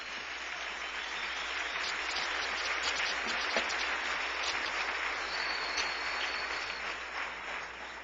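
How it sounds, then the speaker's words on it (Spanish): A church congregation claps loudly and continuously for several seconds, a dense wall of applause filling a large room. "Dale un aplauso bien fuerte al Rey"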